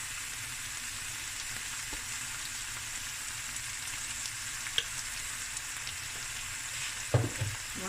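Masala fries in a pot with seared lamb chops, a constant close crackling sizzle with a few faint utensil clicks near the end and no voice.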